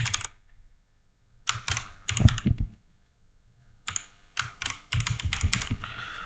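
Code typed on a computer keyboard in rapid bursts of close, crisp key clicks separated by brief silent pauses.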